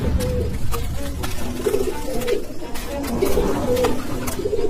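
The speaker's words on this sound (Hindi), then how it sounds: "एक कबूतर बुरी तरह जमीन पर गिरा और फड़फड़ा रहा था।" A pigeon in a cartoon, fallen to the ground, coos repeatedly in low throaty phrases, with brief fluttering bursts of wings between the calls.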